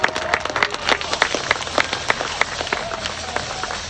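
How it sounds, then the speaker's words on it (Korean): Audience applause at an Incheon Landing Operation commemoration ceremony honoring General MacArthur, a steady dense clapping crowd sustained throughout, fairly close and loud, with a faint voice briefly audible underneath. "메가더 장군님께 감사의 박수 이 시간 다시 한번 올려주시기 바랍니다"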